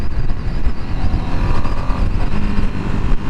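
A Ducati Streetfighter V2 motorcycle is downshifting at high RPM, giving a continuous, loud, rumbling engine roar with wind buffeting across the microphone.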